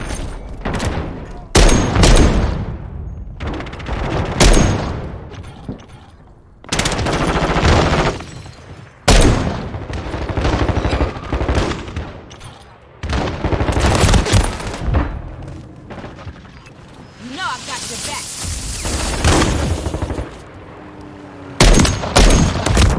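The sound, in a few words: gunfire in Call of Duty MW3 video game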